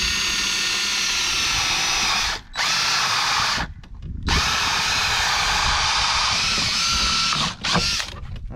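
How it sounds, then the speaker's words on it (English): A step drill bit bores a hole near the bottom of a bait tank, whining loudly and steadily in close range with a few brief pauses between bursts and no talk. "So I'm just going to pick out roughly center of this tank and drill a hole in it, pretty close to the bottom."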